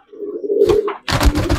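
Pakistani Sialkoti pigeons in a loft give a short, low coo followed by a second burst of cooing with wing or body rustle, close and fairly clear, with no voices.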